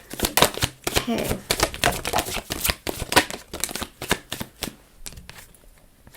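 Cards are shuffled for a tarot reading in a rapid run of crisp riffling snaps and taps, close and sharp, with a brief spoken word near the start.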